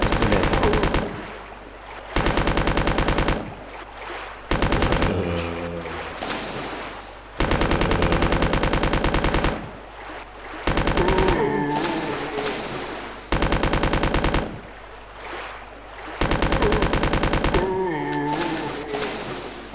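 Bursts of machine-gun fire from Biohazard 2 HD, roughly seven loud rapid volleys separated by short pauses, with faint ambient game sounds in the gaps and no voices.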